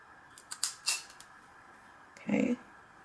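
Clippers snipping a dog's nails at home, a few sharp clicks in quick succession near the start and a louder, brief crunch later, close up with quiet gaps between cuts.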